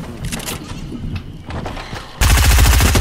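Fortnite gunfire, with scattered shots and thumps at first, then a sudden loud sustained burst of rapid automatic fire that keeps going to the end.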